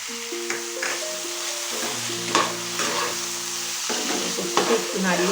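Bottle gourd and poppy seed curry (lau posto) sizzles in a pan while a spoon stirs it with repeated scraping clatters, close and steady, over a tonal background hum, with no talking.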